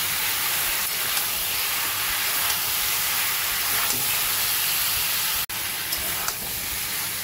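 Steady sizzling hiss of chopped vegetables frying in a pan, continuous and close, with a brief break near the end.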